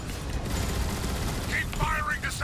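Gunfire in the video game Transformers: War of Cybertron, a dense, steady barrage of rapid shots running throughout with brief electronic tones near the end, under a voice talking.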